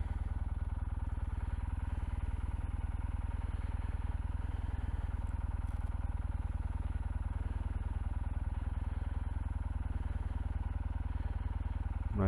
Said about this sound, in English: My trusty motorcycle.